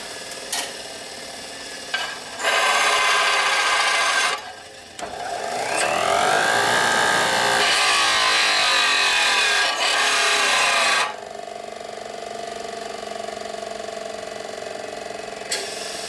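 Grinding and cutting on a part from a 1942 Harley-Davidson WLC/WLA 45 ci transmission, harsh abrasive rasping in several long passes with short pauses and a whining pitch sweep in the middle, loud and close.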